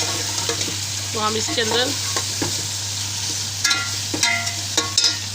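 Chicken pieces frying and being stirred in a pan for chicken pulao: a steady sizzle with spoon scrapes and clinks, a low hum underneath, and a person talking over it.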